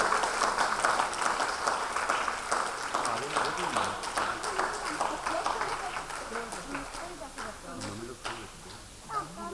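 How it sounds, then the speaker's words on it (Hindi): An audience in a Kolkata hall claps steadily in a dense, sustained wash of applause that fades slightly toward the end, with a voice speaking over it. "तालियां रुकनी नहीं चाहिए, तालियां रुकनी नहीं चाहिए।"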